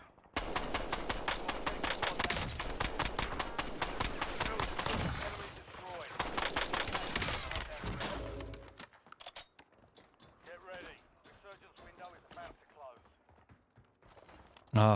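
Rapid semi-auto rifle fire with a ported compensator in Call of Duty: Warzone rattles in dense, steady bursts for several seconds. Sparser gunfire follows, with a voice talking over it.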